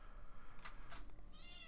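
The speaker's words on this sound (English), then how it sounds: "a certain cat is screaming her head off outside this door" A cat meows loudly on the far side of a closed door, giving a few short muffled cries and one longer call, faint and distant through steady low room noise.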